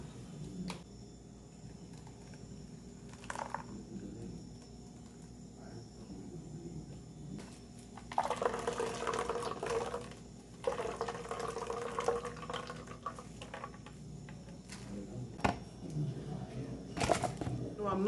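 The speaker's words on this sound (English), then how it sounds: "I'm straining it into a container, separating the husks from the juice." Blended coconut being strained into a container at a homestead, separating husks from the juice; liquid pours and trickles in uneven bursts, moderately close, over steady background hum.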